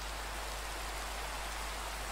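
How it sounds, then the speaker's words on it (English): Steady, dense hiss of rain falling in the video game Minecraft, a constant broadband wash with no gaps or other sounds. "whilst I was cutting down the bloody trees, it started raining"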